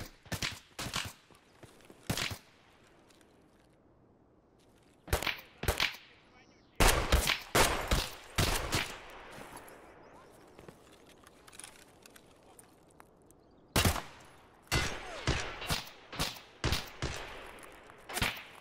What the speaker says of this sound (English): That guy is shooting at me?